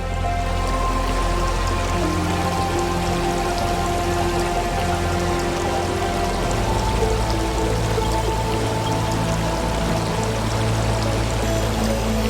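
Stream water rushes over cascades toward the Merced River in Yosemite, a steady, dense, unbroken hiss of flowing and splashing water at close range.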